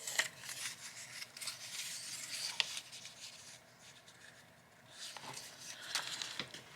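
Scissors snip through the edge of double-sided paper, giving a few short crisp cuts with light rubbing and rustling between them, close and fairly quiet.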